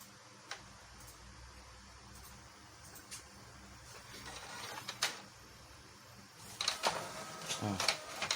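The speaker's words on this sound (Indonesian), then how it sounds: "Kita coba buat print ya." An Epson printer runs a print job, its faint ticking and whirring building into louder mechanical feed and carriage noises near the end, with someone talking in Indonesian throughout.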